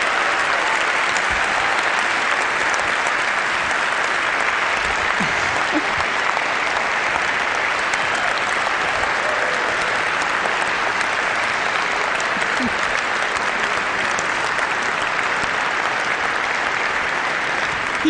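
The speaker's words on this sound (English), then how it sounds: "He does deserve a lot of applause" Loud, steady applause from an audience at a tech talk, a dense wash of clapping that holds evenly for nearly twenty seconds without a break.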